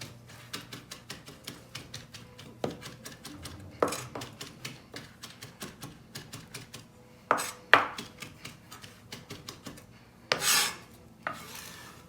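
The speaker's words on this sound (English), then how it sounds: "oregano has a good scent to it. Chop that up finely." A knife chops fresh oregano finely on a cutting board, a fast, steady run of crisp close taps, with a few louder board knocks and scraping sweeps and no talking.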